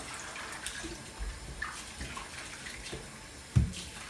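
Tap water runs steadily over greens being rinsed in a colander at a home kitchen sink, a close, even splashing wash with a brief louder splash near the end and no talking.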